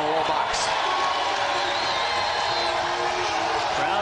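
A basketball arena crowd in Honolulu during a college championship game between Hawaii and SMU, a loud continuous roar with whoops and cheers, a few faint whistles rising over the din.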